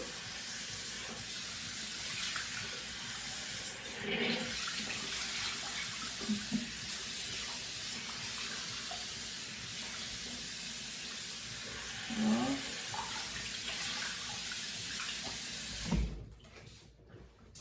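Running water from a tap splashes steadily while a face is rinsed clean during a facial cleansing routine, a continuous broadband wash with small surges of splashing and a brief clunk near the end.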